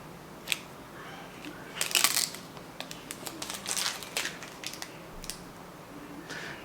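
Protective film peeled off a new Spektrum S2100 battery charger, a series of crisp crackling tears and small rustles, close and fairly loud with no talking.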